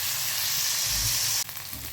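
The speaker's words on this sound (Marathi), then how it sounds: "त्यात आपण ह्या 2 मिरच्या टाकूया, लसूण टाकूयात 4-5 पाकळ्या।" Two green chillies and four or five garlic cloves frying in oil, giving a loud, steady close sizzle that drops suddenly in level near the end, with no voices.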